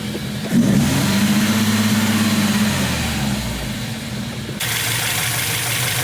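A Volvo car engine with a fuel system that keeps sticking revs up sharply, holds a strained steady drone for a few seconds, then settles back to a rough idle.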